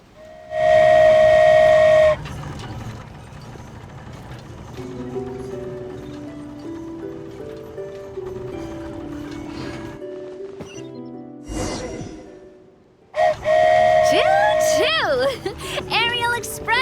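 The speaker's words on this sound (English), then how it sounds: "I've never been on a flying train before." Steam whistle of a flying train in Genshin Impact blasting loudly at departure, sounding twice with long sustained tones, amid game music and a rushing whoosh.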